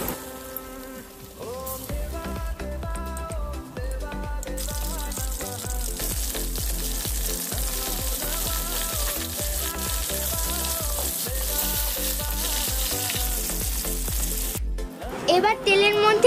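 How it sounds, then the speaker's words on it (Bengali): Mrigal fish pieces fry in hot oil, a continuous close crackling sizzle beneath steady rhythmic background music, with a brief clatter near the end. "এবার মাছগুলোকে গরম তেলে ভেজে নেব।"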